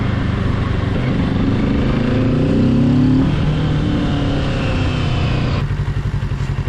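A Kawasaki Z650 motorcycle engine rumbles continuously and fairly loud, with the pitch climbing as it accelerates around the three-second mark and then dropping back to a steadier drone.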